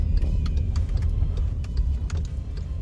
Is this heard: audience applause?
no